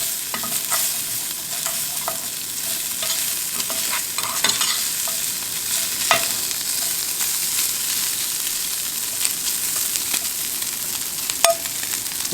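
Garlic, bacon and onion fry in a pan for a tailgate shrimp and grits breakfast, giving a steady close sizzle broken up by the scrape and clack of stirring throughout.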